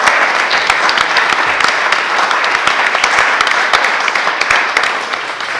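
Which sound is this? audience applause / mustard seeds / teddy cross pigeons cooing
audience applause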